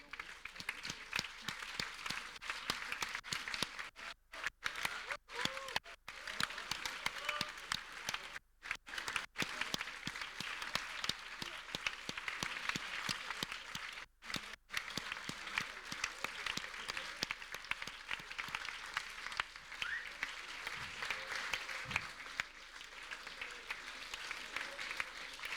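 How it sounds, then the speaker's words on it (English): A student audience applauds the teams at the final project presentations, a long, dense burst of clapping that continues steadily for the full stretch, with a few brief gaps. "round of applause for the work they've done today."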